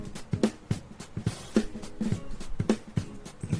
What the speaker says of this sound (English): Overhead sounds like this without any plugin.